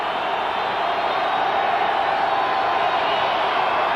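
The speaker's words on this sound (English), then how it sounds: "Crowd noise intense for Esiason on second down and 10." A dense, steady roar of a large stadium crowd at a 1986 NFL football game, Cincinnati at Denver, loud and continuous with no breaks, a broad wash of many voices blending together.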